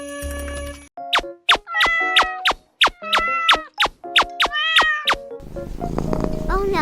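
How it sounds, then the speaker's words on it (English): A cat meows about a dozen times in quick, close succession, the cries rising and bending in pitch, then mixed sounds and a voice follow at the end. "Bad cat."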